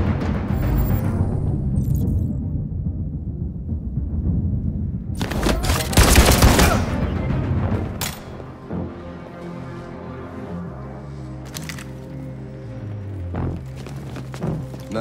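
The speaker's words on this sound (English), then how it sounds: "Nice shot, Connor." Gunshots ring out in the video game Detroit: Become Human: a dense, loud burst of gunfire near the middle, then quieter game ambience with a few sharp accents.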